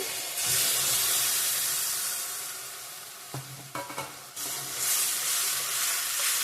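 A spice masala with tomato paste frying in a pan gives a loud, steady hissing sizzle, broken by a few scraping stirs and a brief dip before the sizzle swells again.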